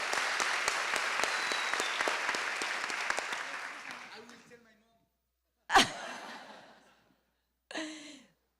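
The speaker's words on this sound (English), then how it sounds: "a round of applause for Julián" Dense audience applause at an entrepreneurship panel, loud and steady for about four seconds, then fading out, followed by a couple of short, sharper bursts of sound after a pause.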